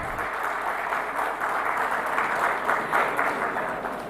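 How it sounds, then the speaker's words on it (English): An audience applauds steadily in a large hall at the India Maritime Week conference in Mumbai. The clapping is dense and sustained, with no voices over it. "A round of applause, ladies and gentlemen."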